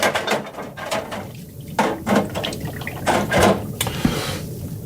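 Mikuni carburetor parts sloshing and dipping in cleaning fluid, with repeated splashes and drips at close range over a few seconds.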